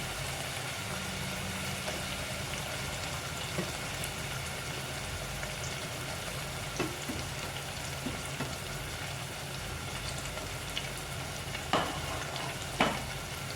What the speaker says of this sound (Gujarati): આ રીતે આપણે ડુંગળીને નાખીને થોડીક તેલમાં ચડવા દેવાની છે.